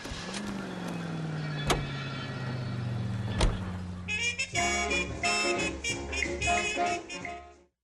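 Car driving in the L.A. Noire video game, a steady engine drone with a low pitch sweep that rises and falls, two sharp knocks along the way, then a burst of harmonic music that overlays the motor near the end.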